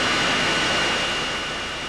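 Operating jet aircraft engine producing a loud, steady broadband roar with a faint high tonal whine, continuous and close, with no voices.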